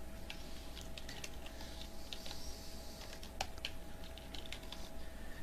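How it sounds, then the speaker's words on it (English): Someone types on a computer keyboard, producing quick irregular clicks and key taps close by at moderate volume, with no talking. "I'm just going to type in,"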